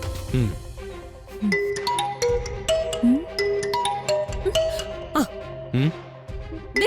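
An incoming call rings on a phone in a Malayalam TV drama scene: a repeating melodic ringtone of bright plucked notes and chiming tones, steady and clear, playing alone for several seconds.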